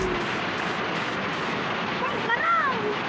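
Cold water rushes continuously at Rebba Falls, a loud, dense waterfall roar with some wind buffeting the microphone and a faint whistling tone near the end.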